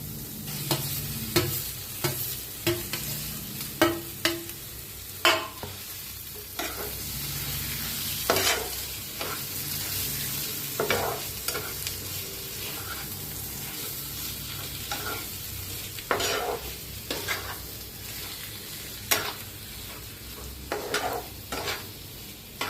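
Potatoes stirred with coriander powder and spices in a pan for aloo paratha filling, a steady low sizzle broken by repeated sharp scrapes and knocks of the spoon against the pan, with no talking.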